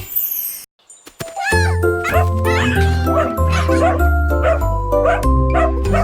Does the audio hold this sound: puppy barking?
yes